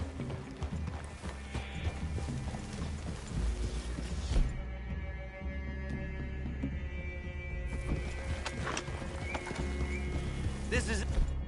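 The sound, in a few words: horses walking and neighing in the video game Red Dead Redemption 2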